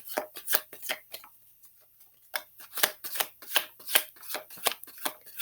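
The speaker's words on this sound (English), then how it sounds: "I'm trying to be very gentle with my shuffling because I want clear messages" Tarot cards being gently shuffled by hand, a run of soft crisp riffling bursts in uneven rhythm with a brief pause in the middle, close and alone with no talking.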